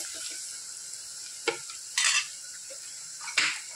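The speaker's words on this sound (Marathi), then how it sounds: "तर आता खूप छान असं रंग आपण मिक्स करून घ्यायचं आहे" Spicy Agri-style masala for a crab curry is stirred in a pan, with three distinct scraping strokes of the spoon over a soft continuous sizzle, close and fairly loud.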